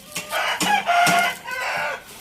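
Chickens and ducks crowd around feed on a Thai farm, giving a rapid run of loud, overlapping clucks and squawks close by, with no one talking.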